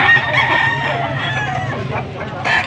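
A Boston breed rooster for sale at a market crows loudly and close, a drawn-out call near the start with another crow beginning near the end.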